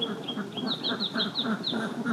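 Ducks quack in a rapid, overlapping chorus on a duck farm where they are raised in an enclosed system, nasal calls repeating close by for the whole stretch without pause.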